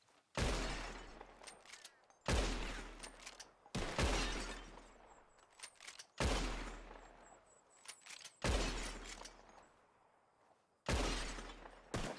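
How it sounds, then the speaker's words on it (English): Revolver shots in Red Dead Redemption 2 ring out during a bottle-shooting contest, six sharp cracks at steady intervals, each followed by shattering glass and a decaying echo, with quiet gaps between. "Whoever shoots more of these bottles wins. Just draw your gun and aim when you're ready"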